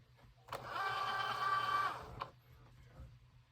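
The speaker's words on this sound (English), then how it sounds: "And after it's loaded in, it's going to ask you to press go, because I'm using my Cricut Joy." A Cricut Joy cutting machine loads a card with a single motorized whir lasting just over a second, ending in a soft click, close by in a quiet room.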